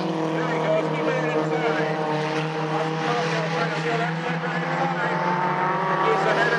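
Engines of race cars droning steadily as they speed down the back stretch of an oval raceway at a main event, a continuous loud roar with a commentator talking over it throughout.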